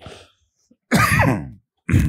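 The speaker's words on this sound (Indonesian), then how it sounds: "Mohon maaf memang saya agak batuk jadi bisa dimaklumi" Man coughing in the middle of a sermon, two harsh, close coughs about a second apart, the first the longer, with a softer throat sound just before them and no talking.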